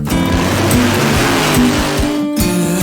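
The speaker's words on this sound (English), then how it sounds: "Lawnmower versus funny car." A nitro funny car roars down a drag strip at Norwalk Raceway Park in a mismatch race against a lawnmower, a loud, close, sustained engine howl with shifting tones and a brief dropout near the end.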